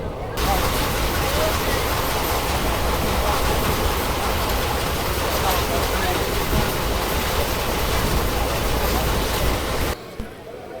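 The 12347 Sahid Express rolls along the rails with a loud, continuous rumbling roar and clatter that holds steady before cutting off abruptly near the end.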